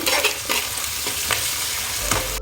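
Loud, steady sizzle of onion and ginger-garlic paste frying in oil, with several distinct scraping strokes of a spoon against the pan at irregular intervals and no voices.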